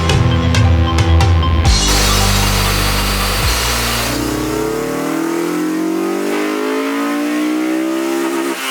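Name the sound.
stock Honda S2000 engine revving on a dyno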